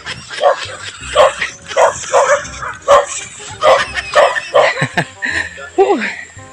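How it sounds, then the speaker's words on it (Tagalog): Dogs bark repeatedly in a village street, sharp woofs and yips coming in a fast, uneven series close by, with some whimpering toward the end and a voice calling over them. "Hoy, mga aso."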